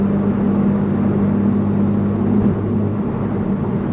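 Loud, constant low-pitched road drone and tire rumble inside a moving Honda Civic Type R FL5, steady throughout with no talk.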